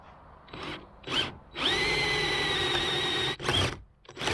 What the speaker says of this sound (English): This is just going to have to be drilled all the way through, because the bolt is rounded on the other side.